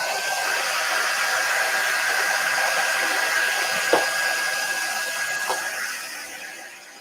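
A hair dryer blows steadily on freshly applied purple paint, a continuous close-up airy whir with a faint whine that holds for most of the stretch before easing off near the end.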